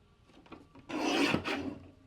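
A paper trimmer slicing through scrapbook paper, one close, rasping cut of about a second after a few soft handling sounds.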